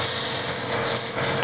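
A spear point scraper cuts into spinning wood on a lathe, giving a brief, steady, loud scraping whir.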